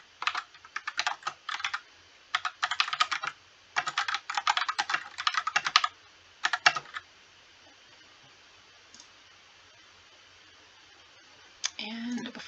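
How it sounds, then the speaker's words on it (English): Bursts of quick typing on a computer keyboard, close and crisp, come in several runs of clicking keystrokes separated by short pauses, then stop, with a brief rustle near the end. "we will type that I am filming this right now."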